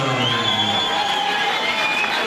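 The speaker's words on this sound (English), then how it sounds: "So Hyland gets the applause" A boxing crowd cheers and applauds for Irish featherweight champion Patrick Hyland, a dense, continuous roar of clapping and shouts filling the arena.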